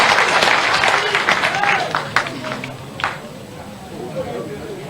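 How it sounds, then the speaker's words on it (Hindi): Crowd at a BJP political rally at the party office in Bhopal clapping to welcome its leaders, a dense sustained patter of applause with a few sharper claps, heard under a loud announcer's voice. "एक बार फिर जोरदार ताली बजा के अपने नेताओं का स्वागत करें।"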